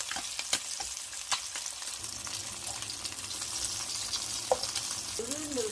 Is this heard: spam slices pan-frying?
yes